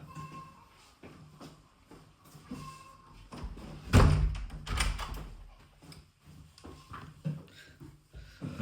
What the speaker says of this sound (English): let's shut this door